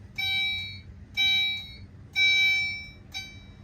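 Fire alarm chime driven by a Wheelock sync module, sounding in four bright, ringing tone bursts with short gaps, the last one clipped short, and no talking over it.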